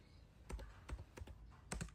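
Keys on a computer keyboard click in a quick uneven series of close, crisp taps with short pauses between.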